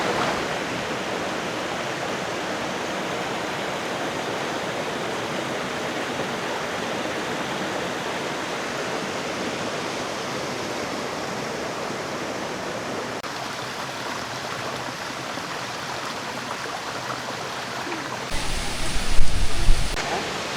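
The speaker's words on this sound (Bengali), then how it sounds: "এই ঝর্ণাটা দেখুন আর এই ঝর্ণার পাশে" Waterfall in the Bandarban hills near Alikadam and Thanchi: a steady, broad rushing roar of falling water fills the whole clip, even and unbroken, with a brief louder rumble near the end.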